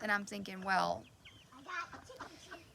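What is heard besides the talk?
hens clucking at the chicken coop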